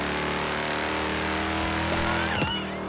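A twin-turbo V8 Mercedes C63 AMG S Coupe in Forza Horizon 3 drones loudly and steadily, rising in pitch as it revs and accelerating through a gear change near the end, with no talk over it.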